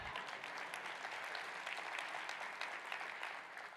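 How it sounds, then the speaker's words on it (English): Dense, steady applause from a large audience at a state Democratic party convention, filling the whole stretch at a moderate, somewhat distant level with no voices rising above it. "We give a round of applause to that."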